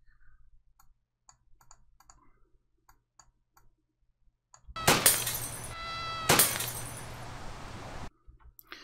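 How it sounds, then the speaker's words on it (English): A champagne glass breaking sound effect: after quiet ticking, a sharp crash bursts in, followed by a second bright shattering hit and tinkling debris, loud and close, then cuts off. "I want the glass breaking."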